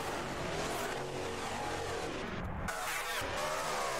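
Race car engine in Automobilista 2 roars steadily at high revs for the whole stretch, driving with the car of Felipe Lapena, with harmonic whine shifting through gear changes and a brief lift near the middle.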